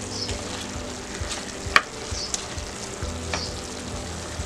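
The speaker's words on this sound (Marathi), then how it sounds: "कोथिंबीर घालूया। परतून चांगलं घेऊया।" Saoji chicken with coriander is stirred and sautéed over full gas, giving a steady close sizzle and frying hiss throughout, with a few sharp spoon clinks against the pan and no talking.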